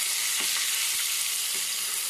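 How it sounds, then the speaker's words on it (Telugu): Ginger paste and spices sizzle steadily in a pan while being stirred, the continuous frying hiss broken by a few soft spoon scrapes, close and alone without talk. "బాగా కలపండి."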